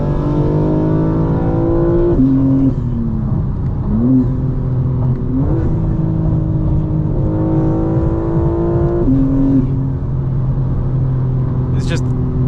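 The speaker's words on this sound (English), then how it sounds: "This is what it's going to sound like inside the car." From inside a 2024 G82 BMW M4 Competition xDrive, the engine drones loudly and climbs in pitch through several gears, each shift marked by a brief drop and rise, steady and close throughout.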